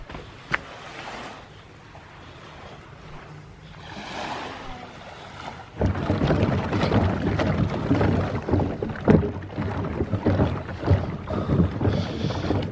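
Small boat on open water off the Philippines, a low engine drone and wind under wave wash that grows louder and rougher partway through, with splashes and hull knocks; no voices.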